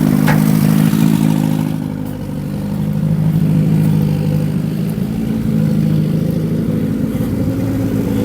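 Engine of a barn-find Zastava 850 small rear-engined car idling steadily, a close, loud low rumble with a light mechanical clatter, holding an even rhythm throughout with no one speaking.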